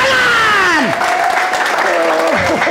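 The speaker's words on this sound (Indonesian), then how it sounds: "Mari tepuk tangan" Church congregation clapping and cheering during a pastor's sermon, loud and close, with a dense clapping wash under excited voices calling out.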